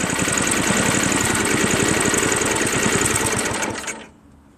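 A Craftsman 5HP 24-inch dual-stage snow blower engine idles close by with a steady, buzzy, rapid chugging, then abruptly cuts out near the end, leaving near silence.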